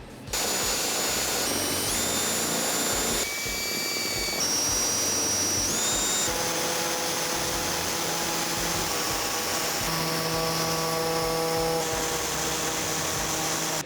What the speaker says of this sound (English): use a larger drill bit to drill out the corners